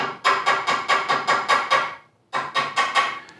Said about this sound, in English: give it a few taps on the back side of the bracket